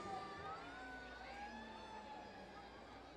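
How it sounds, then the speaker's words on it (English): Faint sirens wail in the distance around an outdoor baseball stadium during a minor-league game, their wavering tones drifting under a steady crowd and ambient wash rather than standing out. "The sirens off in the distance."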